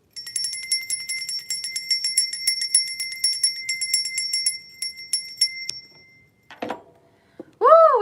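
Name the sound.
bell ringing to clear energy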